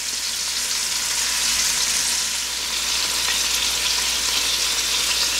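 Pot roast meat searing in a pot over a high flame, a loud, dense and continuous sizzle with a constant hiss and fine crackling, close up and with no talk.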